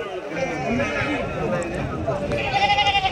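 Sheep and rams bleat at a crowded Saturday livestock market, with several wavering calls rising over a busy background of people talking nearby.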